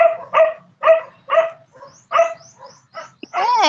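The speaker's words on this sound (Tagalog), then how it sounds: "Ang ingay ng aso." A dog barks in a loud, close series of sharp, evenly spaced yaps, about eight in a row, ending in a higher strained whine.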